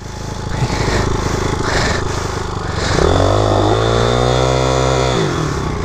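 Motorcycle engine revving hard while the rear wheel spins and loses grip, a loud rising whine that holds high for a couple of seconds before dropping back, over a continuous engine rumble.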